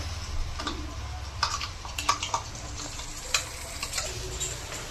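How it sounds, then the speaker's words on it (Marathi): A ground masala paste of onion, tomato, coriander and garlic sautéing in hot oil for a chicken dish, with a steady low sizzle broken by scattered crackles and spoon scrapes, close and moderately loud, no voices. "हे वाटण चांगलं परतून घ्यायचं तेल सुटेपर्यंत."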